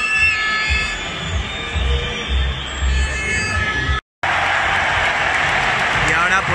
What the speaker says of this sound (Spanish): Pitada brutal del Camp Nou